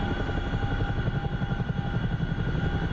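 Chinook helicopter in the DCS flight simulator game, twin rotors throbbing in a steady, fast, heavy beat under a constant engine whine, loud and continuous with no talking.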